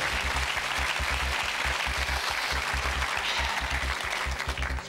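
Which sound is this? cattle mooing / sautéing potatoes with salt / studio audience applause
studio audience applause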